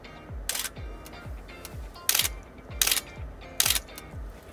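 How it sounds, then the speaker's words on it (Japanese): A Nikon F4s film camera with a vertical-travel metal focal-plane shutter fires several times, each crisp mechanical clack followed by a short whirring motor-drive advance, close and loud, with gaps between shots. "このね、シャッター音が非常にいいんですね。"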